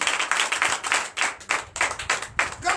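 A church congregation at a Sunday service in Comé, Benin claps for Jesus, a lively run of quick, rhythmic handclaps in bursts, fairly close and moderately loud, with no talk.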